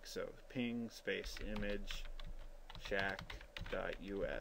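Computer keyboard keys are tapped out in quick bursts while entering a command at a Windows command prompt, the clicks close and partly masked by someone talking over them.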